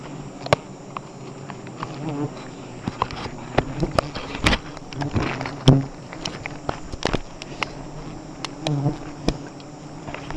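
A dense swarm of bees buzzes at their nest up close, with constant droning hum and sharp flybys passing near, no voices.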